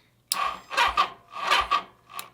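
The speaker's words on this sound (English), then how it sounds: "Why is this thing barely cranking?" A bobber motorcycle's engine cranks weakly on its starter, giving three slow, labored churning bursts with pauses between them, close and loud, with no talking.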